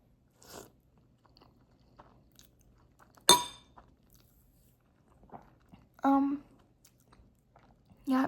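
Noodles being eaten, with scattered soft bites and chewing plus a few louder crunchy or clinking moments, close and quiet in an otherwise still room without talk.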